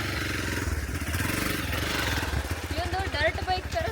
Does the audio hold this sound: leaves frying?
no